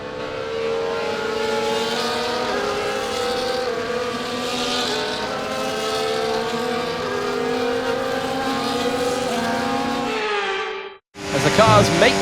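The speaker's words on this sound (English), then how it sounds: "the formation lap is underway. There are wet conditions here today" F1 race cars from the video game F1 24 drone through a wet formation lap at Belgium, several layered engine tones whining and shifting pitch continuously before a brief cut and a sharp return of engine noise.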